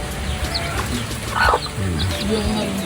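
A hen clucks among her newly hatched chicks in light rain, with short clucks and a few high chick peeps close by.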